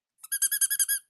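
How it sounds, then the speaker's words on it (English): A rubber chicken toy squeaks in a quick run of about seven sharp, shrill honks, loud and close with nothing else heard. "I will squeak the chicken."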